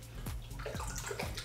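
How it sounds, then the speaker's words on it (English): Half a cup of cold water goes into a bowl of sugar syrup made with Grand Marnier orange liqueur, a short quiet burst of pouring and sloshing with a few gurgling glugs, no voices. "Cool the syrup off with a half a cup of cold water."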